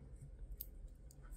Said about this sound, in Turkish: Sonrasında buradan kesiyorum.